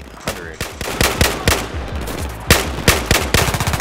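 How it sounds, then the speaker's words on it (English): Rapid bursts of automatic rifle fire in Battlefield 4 on Xbox One, Kunlun Mountains campaign, loud sharp shots in uneven clusters with short pauses, and a brief spoken word. "Look at how many shots I'm firing, wasting to try to kill that one guy"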